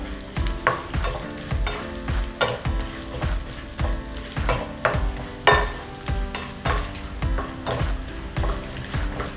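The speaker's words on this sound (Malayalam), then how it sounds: "നമുക്കൊന്ന് വറുത്തെടുക്കാം." Thin coconut slices fry in hot coconut oil while being stirred, a steady sizzle punctuated by regular scraping stir strokes roughly every half second, close and continuous with no talking.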